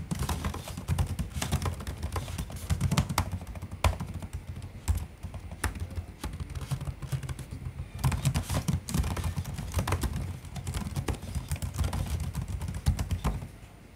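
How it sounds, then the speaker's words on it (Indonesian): Steady typing on a Lenovo Legion 5 Pro laptop keyboard, rapid soft key clicks in an uneven rhythm, close and fairly quiet, with no talking. "Dan berikut suara pengetikan dari keyboard ini."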